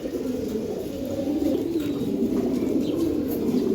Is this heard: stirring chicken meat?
no